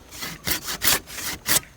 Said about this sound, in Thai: กรุณาใช้เลื่อยที่มันคมๆหน่อยนะครับ